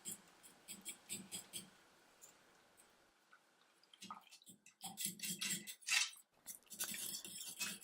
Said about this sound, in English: Use a ladle to dissolve the miso into the soup like this